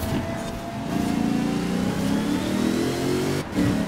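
A Corvette C8 revving in Forza Horizon 4, its engine note climbing steadily as it accelerates, loud and close, with a brief dip near the end before it picks up again.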